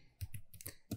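Keys clatter on a computer keyboard while text is entered into a Microsoft Excel spreadsheet, about five quick, close, soft clicks within a single second.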